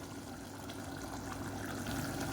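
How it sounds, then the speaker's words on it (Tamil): Water from a rinsed mixer jar pours into a simmering coconut-paste kurma, a steady, close gushing splash that builds slightly over a couple of seconds. "மிக்சி அலசிட்டு தண்ணி சேர்த்துக்கலாம்"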